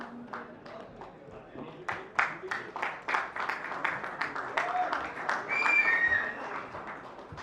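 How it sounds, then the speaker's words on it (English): Scattered applause breaks out in the audience at an award ceremony, with individual claps building into a fuller burst before easing. Faint voices and a brief whistle-like tone sound in the background. "Big round of applause for Pankaj Thakur"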